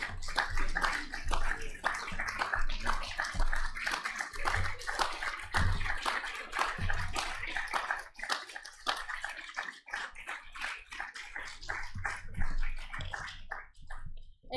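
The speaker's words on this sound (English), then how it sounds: "we'll give you a final round of applause as you're leaving" A conference audience claps at the close of an annual conference, a dense and continuous round of applause that slowly thins toward the end, heard from within the room.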